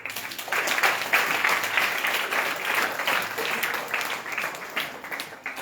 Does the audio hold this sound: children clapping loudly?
yes